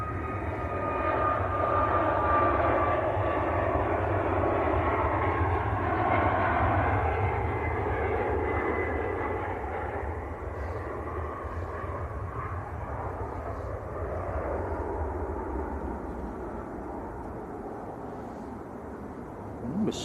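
An airliner bound for Sharm el Sheikh roars down the runway on its takeoff roll at Manchester Airport, a loud, sustained broadband engine rumble that swells early and then slowly fades as it moves away.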